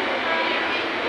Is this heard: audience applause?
no